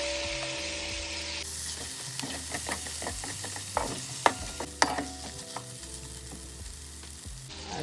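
Tomatoes sizzle and fry in a pot of Jamaican brown stew pork, a steady close crackle broken by a few stirring clatters, with no voices.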